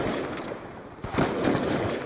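Rapid automatic gunfire from the video game Black Ops 2, a dense burst of loud rattling shots filling the clip with a brief lull midway before another close, sustained volley.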